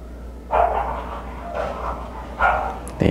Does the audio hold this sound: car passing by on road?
no